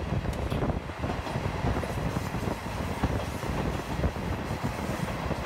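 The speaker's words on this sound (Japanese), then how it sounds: "ダイナミックな爆音を残し佐古駅を出発しました。" A JR Shikoku KiHa 47 diesel railcar of train 435D pulls away from Sako Station on the Tokushima Line, its engine roaring loudly and continuously, with rolling wheel and rail rumble throughout and no talking.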